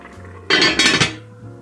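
A dish slides back into a home oven with a brief clattering, scraping clink of ovenware on metal racks, loud and close, with a quiet kitchen hum before and after.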